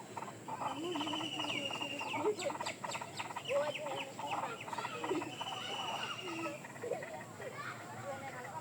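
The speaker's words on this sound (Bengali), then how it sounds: "বাগানে এখানে একটা পাখির বাসা আছে খেয়াল করে আপনারা শুনলে শব্দ শুনতে পাবেন" Birds chirp and call repeatedly from a nest in a vegetable garden, a busy scatter of short high tweets and trills heard faintly at a moderate distance under soft background noise.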